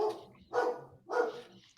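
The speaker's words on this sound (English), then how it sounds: "The dog is agreeing. I just heard that bark." A dog barks indoors, three short moderately loud barks spaced roughly half a second apart, with no speech over them.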